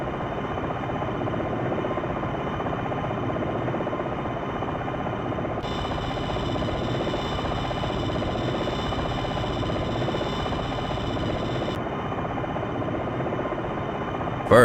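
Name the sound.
Longbow attack helicopter hovering, from a video game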